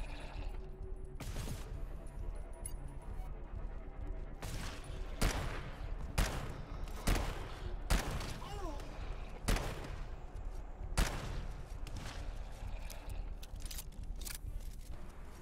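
Sharp, loud gunshots in the shooter game GTFO, scattered irregularly across the stretch with roughly a dozen cracks and brief bursts over a low background rumble, with talk faintly in the mix.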